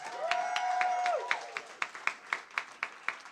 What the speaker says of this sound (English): we've got to give a big round of applause to Mr.